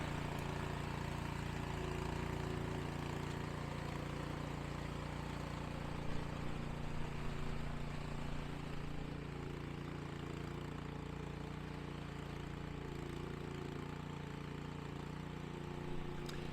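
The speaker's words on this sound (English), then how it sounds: "the Cub Cadet's doing a really good job of throwing that slush" A Cub Cadet 2X 30 MAX two-stage snowblower runs steadily while clearing about 4 inches of sloppy wet slush, a continuous mid-pitched engine drone with a few faint bumps and no speech.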